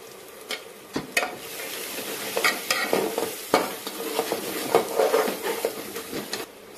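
Chicken curry frying in a pan as chicken masala is stirred in, a village-style home cooking scene: steady sizzle with repeated scraping and stirring strokes, close and moderately loud, no talking.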